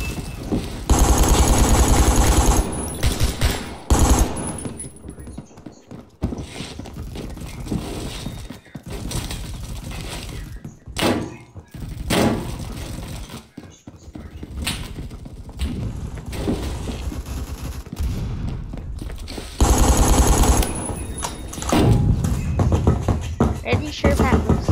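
Rapid bursts of video game gunfire from Roblox Phantom Forces, loud automatic rattles broken by short gaps, with a player talking over and between the shots.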